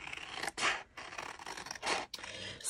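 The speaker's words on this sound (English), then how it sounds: "I just want to cut her out with a pair of scissors." Scissors cutting out a paper art doll for a junk journal, heard as a few crisp, close snipping and scraping bursts with short pauses between them and no talk.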